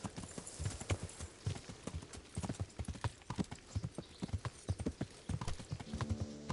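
A horse's hooves clip-clop in Kingdom Come: Deliverance, quick irregular hoofbeats close up at a steady gait, fairly quiet, with a short tonal sound at the end.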